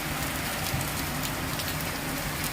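Heavy monsoon-style rain pours steadily in rural India, a dense, close hiss of drops hitting surfaces with no pause.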